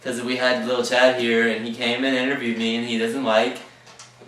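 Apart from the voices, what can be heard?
No everyday noises stand out.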